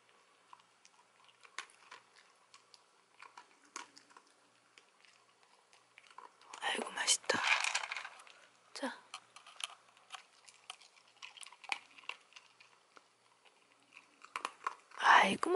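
A dachshund eats dry dog food, with quiet irregular crunches and bites that come in clusters and grow louder in places, while someone speaks softly in Korean.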